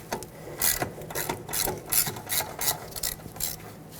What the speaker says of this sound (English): unbolt the 12mm bolt holding on the bracket that holds on the brake hose